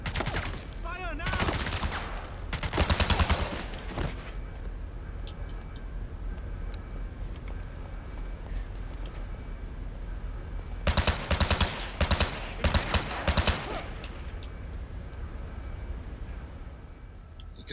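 Bursts of rapid gunfire from James Bond 007: Blood Stone, loud clusters at the start and again later, separated by a quieter stretch of steady ticking game ambience.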